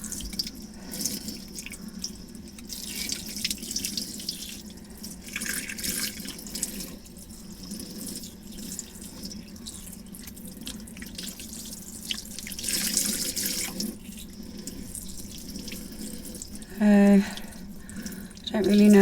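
Water runs steadily from a tap into a sink while clip-in hair extensions are rinsed, a continuous splashing flow with some louder surges and drips toward the end.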